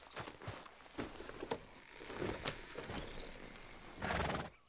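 A horse in Red Dead Redemption 2 with steady clip-clop hoofbeats and a neigh, close and moderately loud, with no talking.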